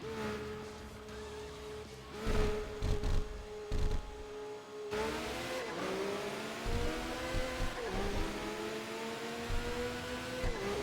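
A race car from a racing video game drives past at speed, its engine tone rising and falling through steady revs and gear changes, loud and continuous with no talk over it.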